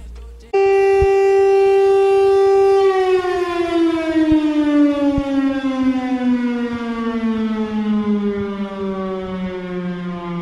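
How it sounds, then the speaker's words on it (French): A loud wailing town curfew warning siren starts abruptly, holds a steady tone, then slowly winds down in pitch, sounding alone. "elle avait décidé de faire sonner les sirènes pour faire comprendre aux gens qu'il fallait rentrer à 21h"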